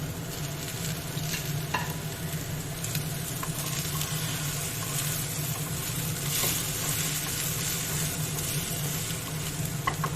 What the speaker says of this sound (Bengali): পুরো সবজিগুলো এভাবে নাড়াচাড়া করে ভেজে ভেজে নিতে হবে।